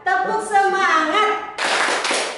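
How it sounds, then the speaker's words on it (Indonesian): Children clap a short rhythmic cheer together during a lesson for young kids, a brisk burst of hand claps following a spoken prompt. "Ayo kita tepuk semangat."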